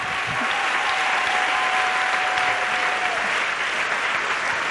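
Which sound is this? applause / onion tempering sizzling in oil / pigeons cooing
applause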